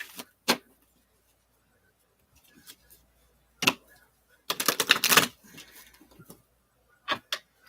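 A deck of reading cards being shuffled gives scattered sharp flicks and snaps, then a dense riffling burst near the middle, followed by a few more isolated clicks, close and otherwise quiet.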